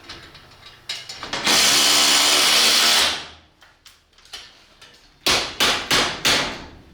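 Power drill driving lag screws into framing during a garage door installation: a sustained loud whir of about two seconds, preceded and followed by short bursts of drilling and tool clatter, with no talk.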